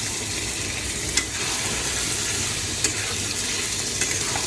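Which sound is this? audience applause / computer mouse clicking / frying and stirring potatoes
frying and stirring potatoes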